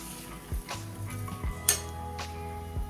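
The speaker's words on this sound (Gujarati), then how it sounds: "હવે આપણે શાકને થોડી વાર માટે તેલમાં સાંતળવા દઈશું વચ્ચે વચ્ચે હલાવતા રહીશું" A spoon stirring a mixed vegetable curry of peas, potatoes and eggplant as it sautés in oil in a pan, with several distinct metallic clinks and scrapes against a soft steady sizzle.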